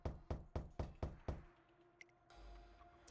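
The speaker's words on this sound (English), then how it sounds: "As the thumping on the door echoes throughout the room" Five heavy, evenly spaced thumps pound on a door, then stop, leaving a quiet room with faint low rumble.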